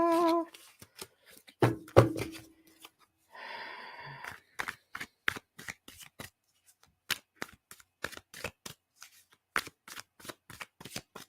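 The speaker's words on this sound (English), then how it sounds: "So let me pull some cards out for us." Tarot cards being shuffled by hand, a run of crisp riffling bursts and repeated sharp card flicks and taps at close range, with a soft breathy sigh early on and no talking.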